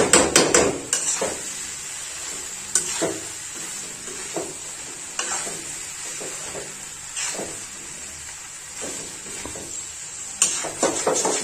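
Spices frying in oil for Bihari-style tahari, a steady sizzle broken by repeated sharp clanks of a spoon stirring against the pan, close and fairly loud.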